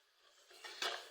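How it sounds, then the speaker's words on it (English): A spoon stirring cabbage stew seasoned with curry powder in a metal pot, faint at first, then louder scraping and clinking against the pot's side toward the end. "So stir it up."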